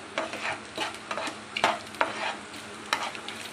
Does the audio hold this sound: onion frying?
yes